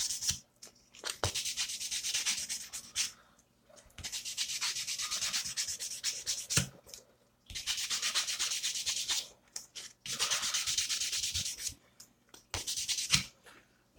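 Plastic lightsaber parts sanded by hand with sandpaper in four long, steady, close rasping strokes, each broken by short pauses and light handling knocks.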